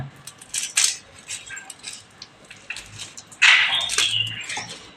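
A knife chops through the ends of an onion on a board while an onion bhaji is being prepared, giving several sharp close taps and clicks with a louder scraping cut near the end.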